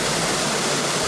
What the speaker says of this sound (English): like this waterfall, it's, I don't know, it just kind of pops out of nowhere